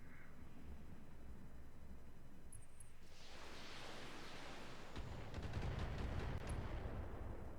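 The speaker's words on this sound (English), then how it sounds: "Ten missiles." A missile volley launches in the BattleTech video game, a faint rising rush of noise that swells into a broad roaring hiss of streaking missiles, followed by scattered impacts.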